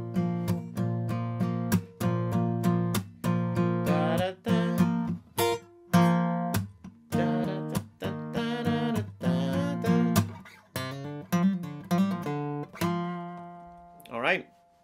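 An acoustic guitar riff, played as a run of short, punchy chord stabs and picked notes in a tight, choppy rhythm, close and loud, ending on a sliding note.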